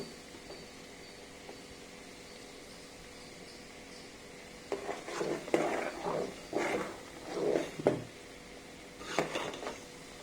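Ghee heating in a metal pot while being stirred. After a quiet stretch of low background noise, loud clattering scrapes of a utensil against the pot come in uneven bursts over a faint sizzle.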